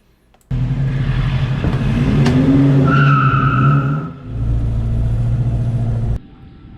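A car zooms down a neighborhood street, passing close and loud with a roaring, whining engine and tire noise that swells for several seconds before cutting off. No one speaks.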